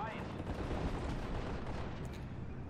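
Gunfire from the Steel Division Normandy 44 war strategy video game rolls on as a dense, steady crackle of distant shots and artillery, faint and continuous with no pause.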